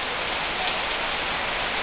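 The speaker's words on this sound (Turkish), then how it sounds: "aralıklarla yağıyor." Summer rain falls steadily in a dense, even hiss of drops on surfaces, continuous and fairly loud throughout, with no voices.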